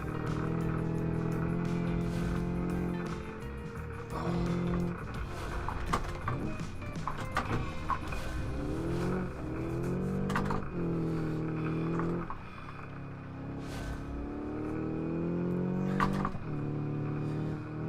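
A car in BeamNG.Drive on gravel tyres runs over a gravel surface, a steady engine drone with gear and revving changes over continuous crunchy road noise, close and loud throughout.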